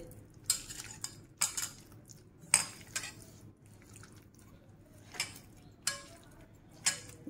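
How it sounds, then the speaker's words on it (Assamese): Onion, tomato and masoor dal being mixed and squeezed by hand in a metal bowl, with sharp clinks of the bowl and soft wet squishing at irregular intervals, close and alone. "মিক্স কৰিব লাগিব হাতেৰে এতিয়া এনেকৈ মুঠিয়াই পিঁয়াজ বিলাহী মচুৰ দালি এনেকৈ মুঠিয়াই ল'ব লাগিব ভালকৈ"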